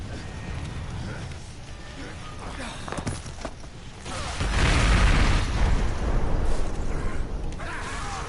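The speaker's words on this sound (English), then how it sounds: "I predicted imminent detonation within the gravity core generators" Explosion of the gravity core generators in the video game Bulletstorm: a low rumbling game soundscape erupts into a heavy, sustained booming blast midway, loud and close, with voices mixed in among the effects.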